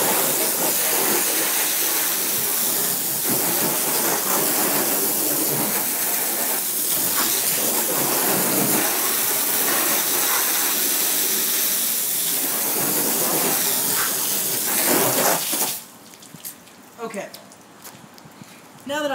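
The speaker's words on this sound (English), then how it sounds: "So I've got the hose here." A water hose sprays across a car's painted side to rinse off vomit, making a loud, steady hiss for about fifteen seconds before it cuts off, leaving scattered dripping and clattering.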